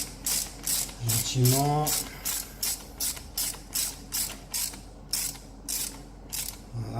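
Ratchet wrench tightening bolts while fitting a dump valve on a Nissan GT-R, a run of about a dozen evenly spaced rapid clicking bursts, close and clear, with a brief creak partway through and no talk over it.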